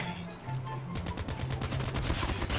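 Gunfire from the mobile shooter Call of Duty Mobile: a brief pause, then a rapid burst of repeated shots rattling on, fairly loud and continuous.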